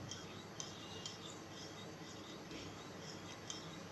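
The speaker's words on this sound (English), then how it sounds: "So we got to stir this for about 100 times" Milk being stirred in a vessel for homemade yogurt (dahi), a soft steady scraping and swishing with faint metallic clinks at regular intervals, quiet and close, with no voices.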